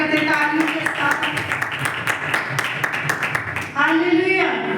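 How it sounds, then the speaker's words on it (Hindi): A church congregation at a Sunday meeting claps steadily to welcome God, with sharp, closely spaced claps carrying on under loud voices calling out and singing. "हम जोर से परमेश्वर का स्वागत करते हैं तालियों के साथ।"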